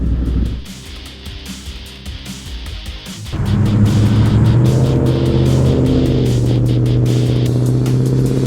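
A car engine revs up and accelerates past on a Polish street, quiet traffic noise giving way to a loud, sustained rising engine roar that holds for the last five seconds.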